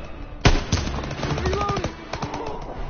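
Sharp gunshots and bursts of rapid automatic fire in a Call of Duty WW2 battle, loud and close, with a heavy first blast followed by uneven volleys.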